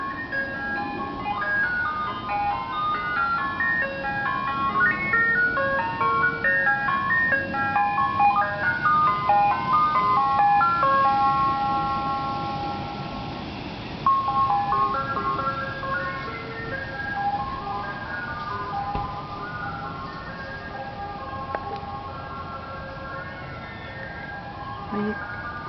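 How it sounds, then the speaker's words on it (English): An ice cream truck plays its tinkling electronic chime melody continuously, fairly loud at first and slowly fading as it moves away, with faint traffic hum beneath. "That's the ice cream truck coming."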